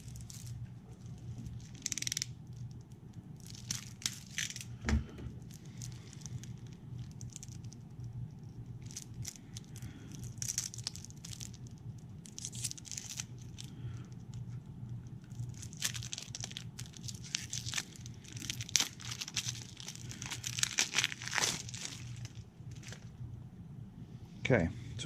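Wrapped packs of cards for the board game Dinosaur Island: Totally Liquid being torn and opened, steady crinkling and rustling of plastic wrap with sharper rips, close and quiet, while a person talks intermittently.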